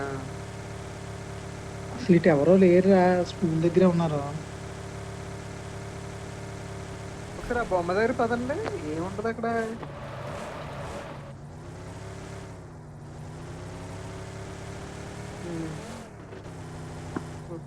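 A vehicle engine in the BGMI mobile game hums steadily throughout with a low tonal drone, while people talk over it in two bursts.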